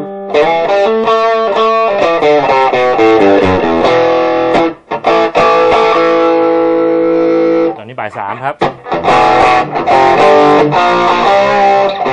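Overdriven electric guitar through a Shark Effect gain/drive booster pedal plays chords and notes with a gritty, crunchy tone, loud and close, with brief pauses between phrases.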